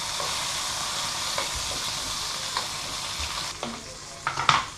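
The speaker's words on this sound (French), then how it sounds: "il faut bien les arroser, pour pas qu'elles sèchent, bien les nourrir de beurre" Trout frying in butter in a pan while being basted for truite meunière, a close, steady sizzle with spoon scrapes and taps of the spoon against the pan growing more frequent toward the end.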